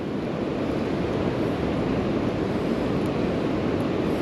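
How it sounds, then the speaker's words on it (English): Steady wind blowing at a creek, a broad, constant rushing roar with gusty microphone buffeting that runs without a break and with no voices. "We ain't had no wind till now, but we got it now."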